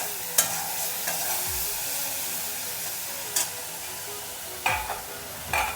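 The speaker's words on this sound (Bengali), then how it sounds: "চিংড়ি মাছটা দিয়ে আমি ভালো করে একটু লাল লাল করে ভেজে নেব।" Prawns frying in hot oil for a village-style Bengali dish, a continuous soft sizzle broken by a few sharp stirring clanks, no talking.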